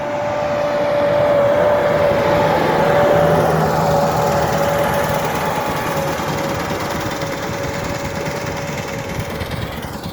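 A tractor engine drones close by with a constant whine while driving across a frozen field, holding an even pitch and loudness throughout as it runs along.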